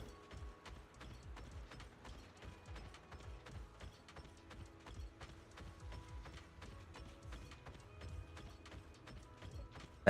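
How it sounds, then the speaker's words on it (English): A heavy video game character walks with a steady run of thudding footsteps with clanking, ratchety mechanical detail, a regular close rhythm continuing for about ten seconds without talk. "The footstep sound effect is absolutely great."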